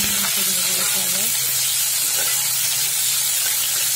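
Pieces of pigeon meat frying in a pan with a steady, loud hiss and sizzle that runs throughout, while a voice talks briefly over it at the start.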